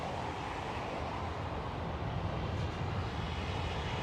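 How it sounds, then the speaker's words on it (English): A China Airlines Airbus A350 takes off from runway 36 Center at Schiphol airport on a winter day, its engines a distant, steady low roar blended with wind. "the China Airlines A350 is now taking off on the runway 36 center"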